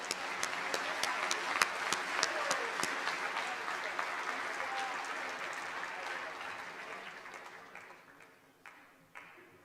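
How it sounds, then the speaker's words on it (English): Seniors at a school awards convocation receive a crowd's applause, with dense clapping that holds steady for several seconds and then thins out, leaving a few scattered claps near the end. "Let's give them a round of applause"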